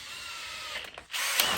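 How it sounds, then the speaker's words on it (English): Power drill driving hub bolts on a Ford F250 hub assembly, a high whirring motor burst that cuts out briefly, then spins up again, close and loud. "I'm probably just gonna use my drill"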